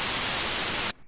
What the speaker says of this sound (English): we can also generate a noise, so we can generate some white noise